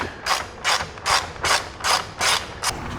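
A hand ratchet loosens 10mm bolts on a Ford F-150 Tremor grille, giving seven evenly spaced bursts of quick clicking at close range with no talk.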